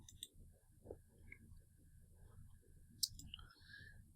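Computer mouse clicks while working in 3DS Max: a couple of soft, sharp clicks over a low, steady background murmur.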